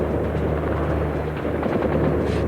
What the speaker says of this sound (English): the 4 guns began firing salvos as fast as the gunners could feed them